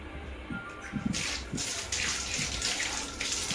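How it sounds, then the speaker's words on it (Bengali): A tap runs as someone washes their face at home, with water streaming and splashing in uneven bursts, close and moderately loud, and no speech. "মুখটা ধুয়ে নিচ্ছি"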